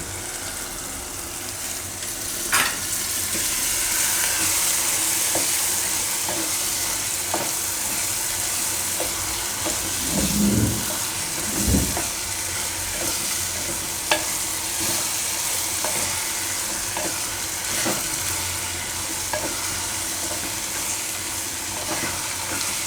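Khichdi goes into a clay pot for matka masala khichdi, sizzling and frying steadily while a spoon stirs and scrapes with scattered clicks, with a louder burst of stirring near the middle.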